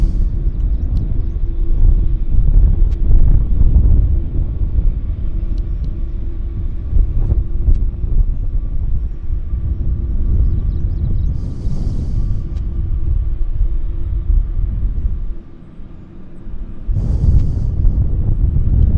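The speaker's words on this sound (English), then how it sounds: "Here's our Dreamliner making its way nicely to the gate." A Boeing 787 Dreamliner taxis to the gate at Vancouver Airport, a loud continuous low rumble with wind buffeting the microphone, dipping briefly near the end before resuming.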